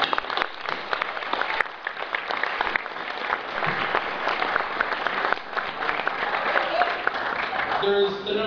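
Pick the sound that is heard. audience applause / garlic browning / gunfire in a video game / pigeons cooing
audience applause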